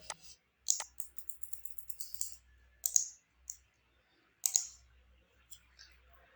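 Shell command typed on a computer keyboard, a run of crisp key clicks in short bursts with gaps, close and fairly quiet, no talking.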